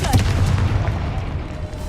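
A Confringo fire-blast spell explodes in Hogwarts Legacy, a loud, deep booming burst with rumbling low-end that sustains through the short moment, with no talking.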